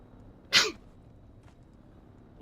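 A single sharp sneeze bursts out close and fairly loud, followed by quiet.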